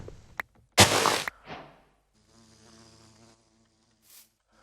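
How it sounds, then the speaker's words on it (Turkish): A bee buzzes in the Minecraft survival game, a thin humming drone that rises after a short loud burst and then fades, fairly close and with no talk over it. "Şu arı sesini gerçek zannediyorum he."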